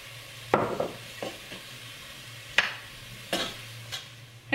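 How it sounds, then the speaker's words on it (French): Butter goes into a pan of onions, with a quiet sizzle under several distinct utensil scrapes and clacks against the pan, spaced irregularly and close, with no voices. "Allez, on va mettre le beurre."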